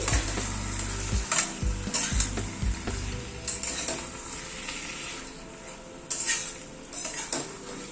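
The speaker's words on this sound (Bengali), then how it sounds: "এবার সবগুলোকে একবার মিশিয়ে দিচ্ছি" Dal, vegetables and chicken are stirred together in a sizzling pan, a spatula scraping and clinking against the metal in bursts over a constant frying hiss, up close with no talking.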